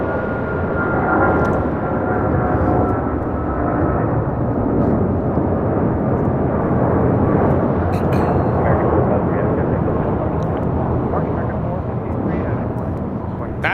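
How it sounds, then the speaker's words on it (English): An American Airlines Boeing 777-200ER jet takes off, a loud, steady, roaring engine rumble sustained throughout, with someone talking over it. "That is American Airlines 453 taking off to Dallas Fort Worth on a 777-200ER"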